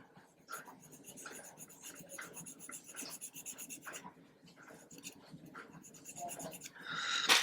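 Repeated rasping strokes of a file scraping small plastic parts of an Airfix 1/72 B-17G model kit, steady back-and-forth rhythm, close up, with a brighter scrape at the end.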